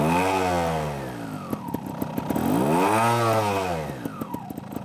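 A motorcycle engine is revved to about a quarter throttle, rising and falling twice in smooth sweeping pitch swells over a steady rumble, close and loud with no talk.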